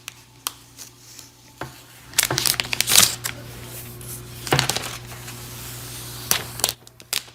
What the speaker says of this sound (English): remove the wrap, and that sound of a cracking paper is amazing and unique